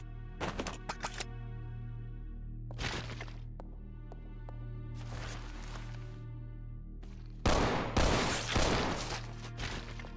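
Gunshots in the video game Resident Evil 0, several loud separate cracks and short bursts over a droning hum, with a denser, louder volley of shots near the end.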